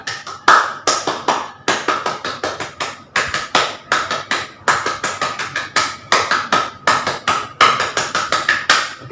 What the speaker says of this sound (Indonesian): kakak minta kepada adik-adik 3 kali tepuk pramuka